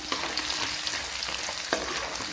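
Garlic frying in a pan for a Thai seafood stir fry with holy basil, a constant crackling sizzle close by with a few sharper spatters and stirring scrapes, no talking.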